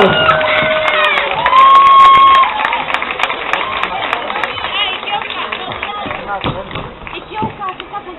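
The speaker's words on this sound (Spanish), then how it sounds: "Un fuertísimo aplauso para Gucci." Audience at an anime cosplay event cheers and applauds for a cosplayer dressed as Layla from Nana, a loud crowd roar with shouts that swells early then settles into steady clapping and chatter.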